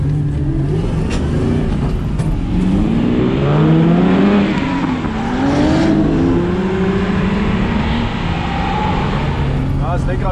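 A BMW E30 fitted with a V8 pulls away on a track, its engine revving and rising and falling in pitch continuously, loud and close throughout.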